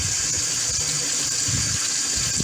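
Water runs steadily into a pot for bone broth, a constant close rushing pour with faint low sloshing underneath and no talking.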